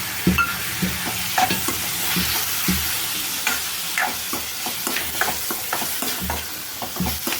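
Chopped onions and tomato fry in a hot pan as a spoon stirs them, a steady close sizzle broken by repeated scraping and clinking strokes, with no talking.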